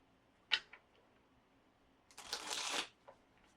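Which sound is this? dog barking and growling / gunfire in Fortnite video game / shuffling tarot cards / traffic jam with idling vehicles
shuffling tarot cards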